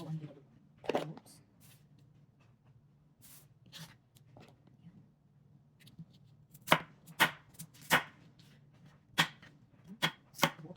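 A knife chops garlic into cubes on a board, with sharp, irregular knocks that come sparse at first and then quicken into a close run of crisp strikes. Soft voices are heard between the cuts.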